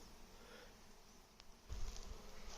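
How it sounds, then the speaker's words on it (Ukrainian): Honey bees fly around a sunflower-honey apiary in a faint, continuous insect hum. Some louder, lower buzzing passes close near the end. Nobody speaks. "Ось наша пасіка, друзі. Бджілки літають, трудяться"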